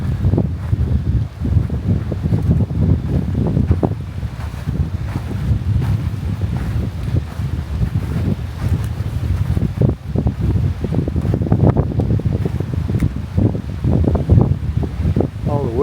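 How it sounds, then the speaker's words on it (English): Strong wind buffets the microphone at a snow-covered fishing pier by the ocean in winter, a loud continuous low rumble with gusty surges. "It is windy out there."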